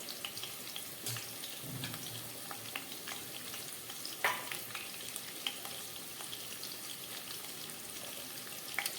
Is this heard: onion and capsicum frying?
yes